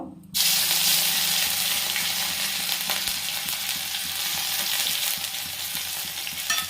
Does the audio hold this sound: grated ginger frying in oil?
yes